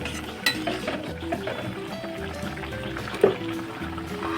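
Bata fish simmering in mustard sauce gets stirred in a pan after salt is added, a steady wet scraping and sloshing with a soft background sizzle and one sharper clink near the end.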